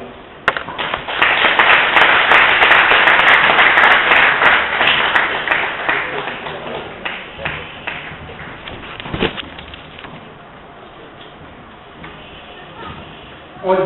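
An audience applauds a professor after a talk, a dense burst of clapping that swells near the start, then thins and fades over several seconds while a voice speaks over it.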